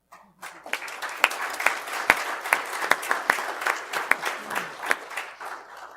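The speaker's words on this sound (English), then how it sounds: "Can we applaud for that?" A church congregation applauding, a burst of scattered and then fuller clapping with sharp individual claps standing out, moderately loud and close, fading slightly toward the end.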